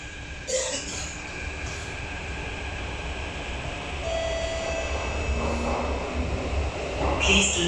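An SMRT CT251 metro train on the Woodlands to Woodlands North run gives a steady rumbling roar with rising wheel noise and faint squeals, heard from inside the car, with brief announcement-like voices.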